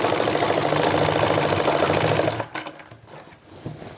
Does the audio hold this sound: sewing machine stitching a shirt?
yes